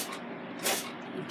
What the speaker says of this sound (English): I'm going to use my Evo oil sprayer, and I have olive oil in here.